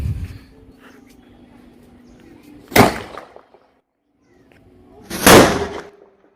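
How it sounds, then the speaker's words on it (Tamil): An Ananda Candy Crush firecracker from Sivakasi, set off for Diwali, bursts in two sharp, loud bangs a few seconds apart, each ringing out briefly over quiet surroundings. "இது வெடி வந்து சின்னமாக வந்து இருந்தாலும் உங்களுக்கு ஹெவியான சவுண்டில் வந்து வெடிக்குது."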